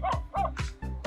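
A dog eating food delivered by a remote-control car gives off repeated short, close yips and whimpering barks, about four quick bursts in a little over a second.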